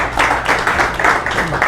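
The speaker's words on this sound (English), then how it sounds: "Big round of applause for him." A crowd at a Las Vegas tech meetup demo night claps steadily for a presenter in a short burst of dense, fairly loud applause that fills the room.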